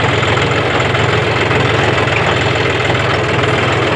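A John Deere 5042D tractor engine runs steadily at close range, a loud continuous mechanical drone with no pauses and no voices.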